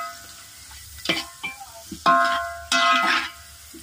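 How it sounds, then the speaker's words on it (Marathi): Onion and green chillies sautéed in oil in a home Indian kitchen while making pithal, with bursts of scraping stirring and sizzle coming in a few separate strokes, close and fairly loud. "तेलामध्ये सगळं परतून घ्यायचे, कांदा तांबूस होईपर्यंत।"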